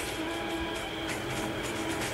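A local train runs in the RG Train Tech Demo video game at about 80 speed after a derailment, giving a steady, dense rolling rumble with rail noise, loud and continuous throughout.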